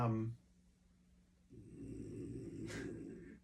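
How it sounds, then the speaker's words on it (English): A single slow, low snore rumbles up after a short quiet gap, faint and close, with a brief harsher breath at its peak. "You've got snoring over here."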